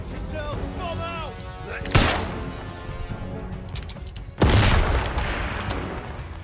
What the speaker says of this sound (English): Watch yourself! Bomb out!